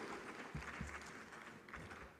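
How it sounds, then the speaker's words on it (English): Audience applause at a formal conference hall for a presidential representative, a steady distant patter of clapping from a crowd, faint and continuous throughout. "a resounding round of applause for the representative"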